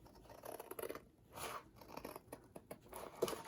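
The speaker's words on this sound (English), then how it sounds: "I'm going to cut right down that line." Scissors snipping through a stack of layered book pages for a collage, a close series of crisp crunching cuts with short pauses between squeezes.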